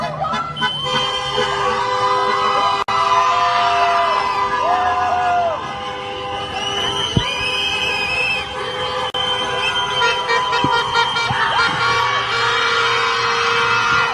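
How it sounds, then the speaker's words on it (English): Crowd cheering and whooping at an anti-ICE protest march by high schoolers near Chicago, a dense, continuous outdoor roar of shouts and yells with people talking throughout. "cheering of the crowd in support of this march and the anti-ICE messaging"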